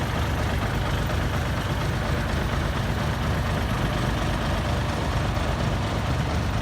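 Six-wheel dump truck straining to pull out of rain-soaked mud, its heavy diesel engine rumbling loudly and steadily at close range.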